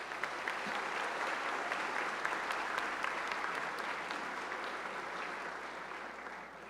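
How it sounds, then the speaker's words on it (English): Sustained audience applause at a high school graduation ceremony, a dense, even patter of many hands clapping steadily for several seconds without voices. "So let's give these guys a big round of applause."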